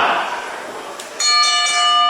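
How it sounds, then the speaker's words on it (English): A ring bell at a pro wrestling show rings out once with a bright metallic clang and a lingering tone over a noisy crowd, starting the match. "the bell has rung"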